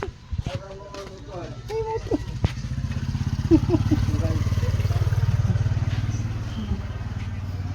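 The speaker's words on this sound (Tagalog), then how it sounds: "Ini motor." A motorcycle approaches and passes close by, its engine note rising to a steady loud drone and then fading, while a child and an adult talk briefly over it at the start.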